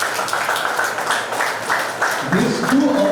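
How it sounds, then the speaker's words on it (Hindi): A crowd claps at a college ceremony for an Amrit Kalash Yatra event, fast overlapping applause for a couple of seconds before a voice begins speaking over the fading clapping. "तालियां बजती रहनी चाहिए।"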